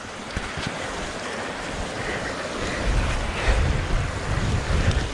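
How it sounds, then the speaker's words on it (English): An Orbea Wild FS full-suspension mountain bike rides through a small river crossing on a Scottish mountain trail, with rushing, splashing water under heavy, constant wind buffeting the microphone. "even got a little river crossing."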